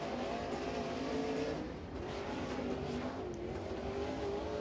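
A crate late model race car works its engine through corners three and four on the Crossville track during qualifying, a steady, fairly loud roar with rising and falling revs as it strains for grip.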